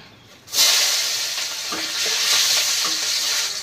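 Onions sizzle and fry in hot oil in a home kitchen, a steady bright hiss that starts abruptly and continues with faint stirring clicks underneath.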